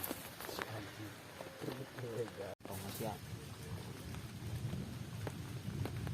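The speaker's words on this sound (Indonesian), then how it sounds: "Kopi dulu bro, hujan santuy." Steady rain falls outside during a mountain expedition on Gunung Manapa near Curugbitung, a dense continuous patter with a brief dropout partway through, while people talk close by.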